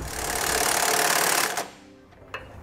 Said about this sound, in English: Now for my long bolt back here in my weld nut in the frame, I'm going to be using a 7/8 socket to tighten that up.